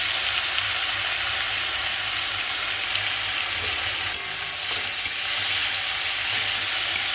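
Banana flower frying in hot oil with whole tempering spices, a dense, loud, continuous sizzle and hiss that holds steady throughout, with a brief dip partway through.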